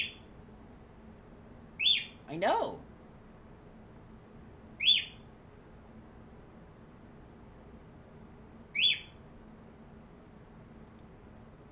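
Bird calls from the video game Dark Seed II: short, bright chirps at about 2, 5 and 9 seconds, spaced apart over a faint steady hiss, with a brief murmured voice in between.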